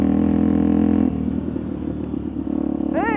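A two-stroke Kawasaki KDX200 dirt bike ridden on dusty trail in Moab's Beef Basin holds a steady, buzzy engine drone close by, with a rising whine near the end.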